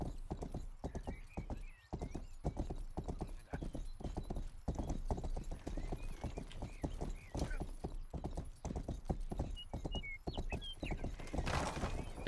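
Hooves clip-clop in a steady trotting rhythm from a horse in the medieval video game Rustler, close and continuous throughout, with occasional whinnies and soft game ambience underneath.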